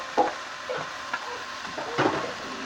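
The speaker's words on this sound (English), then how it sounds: "And we're going to fry these up." Noodles frying in a pan for a fried noodle dish, with a few sharp bursts of sizzle and stirring scrapes standing out over a steady hissing background, close and moderately loud.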